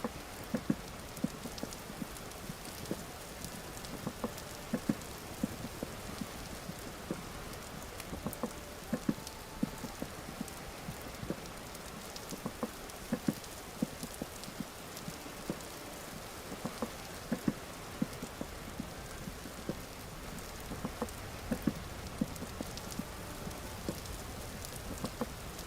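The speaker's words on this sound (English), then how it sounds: "Doesn't sound like the rain is trying to put it out." Steady rain falls in the Vintage Story video game, a dense, continuous patter with scattered sharper drops close by, at a low level throughout with no talking.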